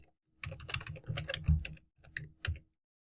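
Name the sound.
typing HTML code on a computer keyboard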